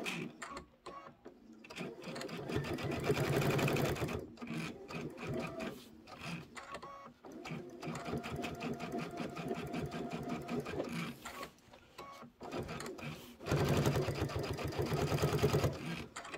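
Sewing machine running an outer seam around a quilt top with batting, a fast rhythmic needle whir in several bursts with short stops between, close and steady.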